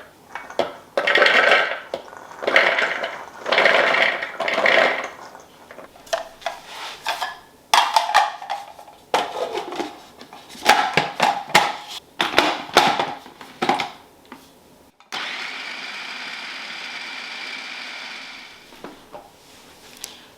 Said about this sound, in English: I'm going to start by pulsing this down till they get into really tiny pieces